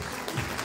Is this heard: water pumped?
no